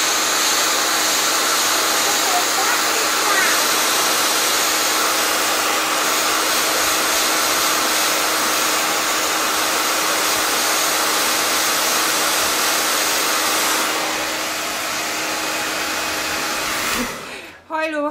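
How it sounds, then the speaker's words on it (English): A hair dryer blowing steadily and loudly while drying liquid latex zombie makeup on skin, a continuous whooshing motor roar that runs nearly unbroken before cutting off abruptly at the end. "I'm going to literally pull my skin down so that I can hair dry it"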